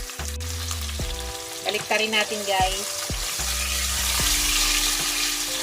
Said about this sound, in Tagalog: Idaan muna natin sa pan. Prito, saglit.